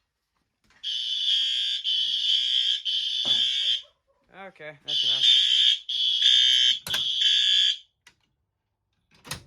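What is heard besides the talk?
fire alarm system test in a shed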